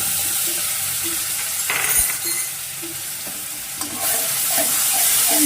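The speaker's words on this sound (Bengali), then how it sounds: "মশলাটাকে আমি ভালো করে কষিয়ে নিব।" Spice paste with salt and ground tomato frying in a pan for a hilsa, potato and eggplant curry, a steady loud sizzle with scraping stirs and a few soft utensil clinks, no talk.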